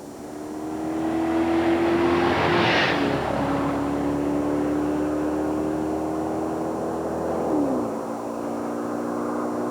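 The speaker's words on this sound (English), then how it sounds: "Imagine for a moment a performance car. One with a 4-cam, 32-valve," A performance car with a 4-cam, 32-valve, 250-horsepower V8 holds a sustained engine drone. It swells into a loud whooshing surge early on, then the pitch drops sharply near the end.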